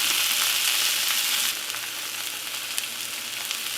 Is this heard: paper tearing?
no